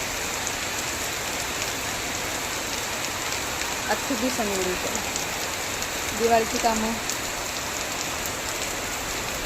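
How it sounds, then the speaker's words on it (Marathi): Heavy monsoon rain pours steadily in a dense, continuous hiss, while people talk briefly over it. "जोरात मुसळधार पाऊस पडतो"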